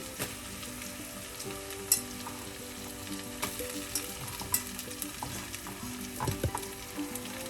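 Crushed small shallots frying in a pan with green chilies for a sardine pepper fry, a steady crackling sizzle broken by occasional spoon scrapes and clinks, close and without talk.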